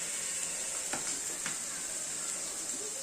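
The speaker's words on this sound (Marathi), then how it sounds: "उभा चिरलेला कांदा आहे तो फ्राय करून घेणार आहे" Continuous bright sizzle of sliced onion frying in hot oil, with a few soft stirring scrapes partway through.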